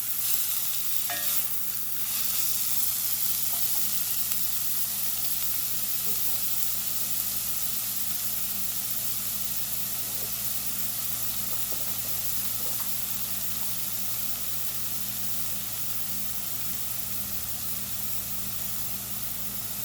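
Callaloo and saltfish cooking in a pan on low heat, a steady soft sizzle and hiss that holds evenly throughout, with a few faint stirring clicks near the start and no talking.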